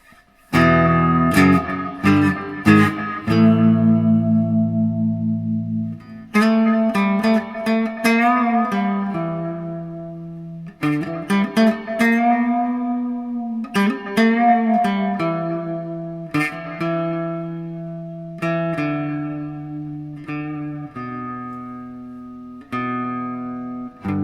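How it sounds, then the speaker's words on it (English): Clean electric guitar notes and chords from a homemade magnetic piezo pickup ring out through a delay effect without reverb, echoing repeats trailing behind each phrase, played alone at moderate volume. "Without the reverb, just the delay."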